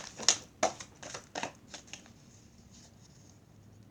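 A few quick, crisp riffles of cards being shuffled up close, followed by quieter faint rustling.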